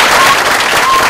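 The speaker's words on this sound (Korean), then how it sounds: "열렬한 박수로 환영해 주시기 바랍니다." Loud, dense applause from an audience welcoming a lecturer to a health talk, a continuous roar of clapping filling the whole short moment.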